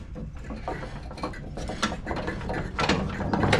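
A deck belt is worked around a pulley on a TroyBilt Bronco riding mower, producing close, irregular metallic clanks, rattles and scraping taps.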